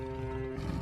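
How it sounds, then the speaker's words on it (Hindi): A cartoon lion roars in a short, tonal, sustained burst with a steady pitched growl, heard alone at moderate loudness. "उन्हें कुछ ही दूर पर एक शेर की दहाड़ने की आवाज सुनाई देती है"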